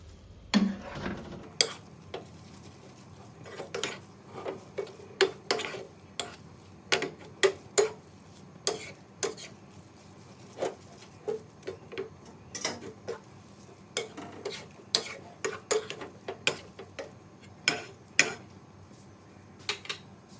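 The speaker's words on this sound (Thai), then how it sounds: "แล้วเราก็จะตักเส้นสปาเกตตี้ลงมาใส่ค่ะ แล้วก็ผัดให้เขาคลุกกับน้ำมันทั่วๆค่ะ" Spaghetti being stir-fried in oil in a pan while making carbonara, with frequent light clicking and scraping of a utensil against the pan in an irregular rhythm over a faint sizzle, no voices.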